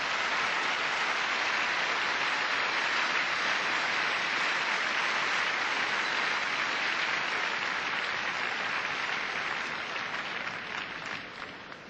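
A large, packed arena crowd at the gymnastics world championships in Stuttgart applauds loudly and continuously, a dense sustained clapping that only starts to fade near the end.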